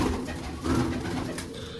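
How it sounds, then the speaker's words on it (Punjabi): Peacock-feathered pigeons in a loft cooing, low throaty rolling coos repeating close by over a soft background. "ਆਪਣੇ ਕੋਲ ਸਾਰੇ ਮੋਰ ਵਾਲੇ ਕਬੂਤਰ ਹੀ ਨੇ ਜੀ"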